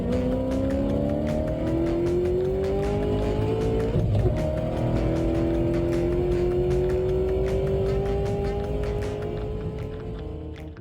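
Race cars from an American muscle car series roar past in a close pack, engines whining loudly and steadily with rising pitch, one car passing near around the midpoint before the sound slowly fades at the end.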